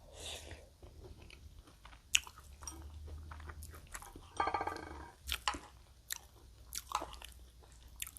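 Someone eats quail curry with mixed vegetables and sticky rice, chewing up close with soft wet squishes, small crunches and smacking bites in an uneven rhythm. The room is otherwise quiet.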